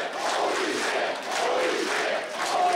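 A wrestling crowd at a Limitless Wrestling event in Yarmouth, Maine roars steadily, a dense sustained wall of cheering and shouting with no clear pauses.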